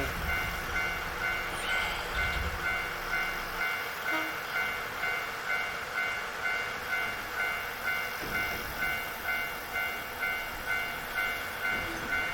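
A steady rhythmic rumble of a moving train in the video game Nostalgic Train rolls on continuously, with a faint repeating clatter and a sustained tonal hum, no voices.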